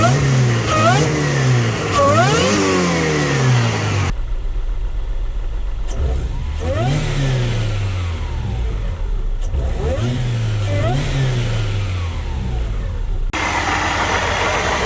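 A supercharged H22 engine in a CB7 Honda Accord fitted with a Jackson Racing supercharger kit revs repeatedly up and down, with loud close throttle blips and rising whine sweeps between stretches of idle.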